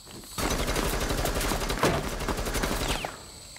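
Rapid automatic gunfire from a Rainbow Six Siege match, a dense, sustained burst of shots close and loud that runs for several seconds before cutting off.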